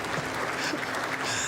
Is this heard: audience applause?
yes